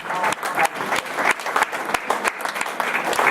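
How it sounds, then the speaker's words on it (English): A church congregation clapping as a clap offering, with steady, fairly loud rhythmic clapping from many hands and a few voices calling out. "Please give a clap offering to our"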